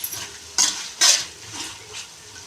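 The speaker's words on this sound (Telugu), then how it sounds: "మిరియాలు మాత్రం వేయించుకోవాలి నూనెలో." Black peppercorns fry in oil for a bachelor-style chicken fry, sounding as a soft sizzle with a few sharp bursts of spattering and stirring scrapes, short and fairly quiet.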